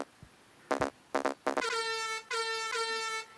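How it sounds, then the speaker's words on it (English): A synthetic air horn sound effect plays in the video game Yeeps: three short honks, then two longer sustained blasts, loud and alone. "I think that air horn was one of the sound effects on the thing."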